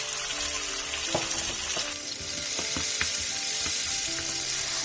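Chopped tomato frying in a pan for Mysore masala dosa potato masala, a loud, steady close sizzle with occasional soft taps of a stirring spoon, no voices.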